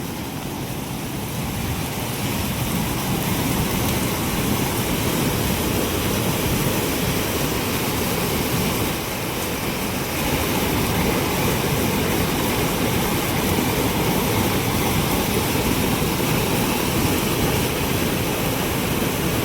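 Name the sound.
Girna river in heavy flood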